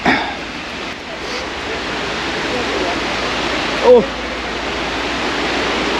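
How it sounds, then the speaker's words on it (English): A hidden waterfall in the humid Bali jungle pours as a steady, loud broadband roar of falling water, with a brief exclamation from a man partway through. "we've got waterfall number 2 here"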